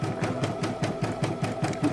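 A Brother PE800 embroidery machine stitches steadily, its needle thumping in a quick, regular rhythm of about four beats per second over a low motor hum, close by and with no one talking.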